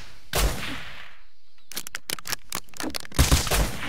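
Gunshots in Rust, a loud blast followed after a short pause by a rapid string of sharp close shots, then another loud burst at the end.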